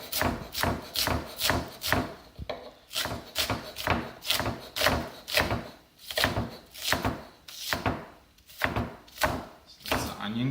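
A kitchen knife slices through an onion on a cutting board in steady, repeated chops, about two strokes per second, close and crisp with a woody thunk on each cut, with no voices.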